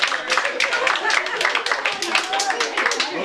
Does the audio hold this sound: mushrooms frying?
no